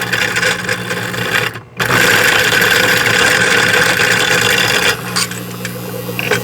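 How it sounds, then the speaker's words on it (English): Lead core fishing line is spooled onto a salmon reel, likely by a motorized line winder, giving a steady loud mechanical whir that drops out briefly, then resumes and shifts slightly in tone near the end. "So nice and easy, we'll go ahead and spool on our lead core."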